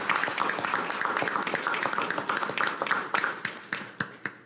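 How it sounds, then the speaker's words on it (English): Applause at an Apopka city council meeting honoring city staff, a small room of people clapping steadily, individual claps distinct and fairly close, tapering off toward the end. "give them all a big round of applause for all they do for the city"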